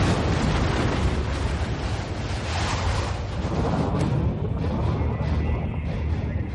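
Nuclear bomb explosion: a loud, sustained roaring blast with dense rumbling that fills the whole stretch and slowly thins toward the end, heard alone without talk.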